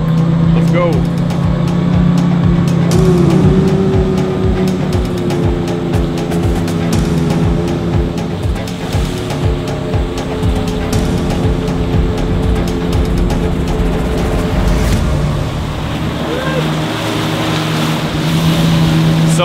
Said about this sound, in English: we are on the boat heading to Ulu Temburong National Park.